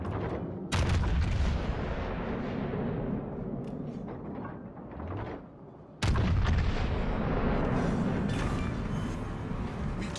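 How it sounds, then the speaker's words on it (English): Heavy naval gunfire in World of Warships: Legends, with a dense booming barrage that drops briefly, then a second loud salvo erupts and rumbles on continuously, with no talking. "Concentrate fire on the enemy warship."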